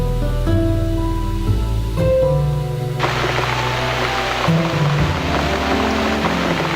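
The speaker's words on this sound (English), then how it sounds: "And the rain continues." Steady rain hisses throughout a scene in the video game The Cat Lady, growing denser and louder partway through while soft tonal game music plays underneath.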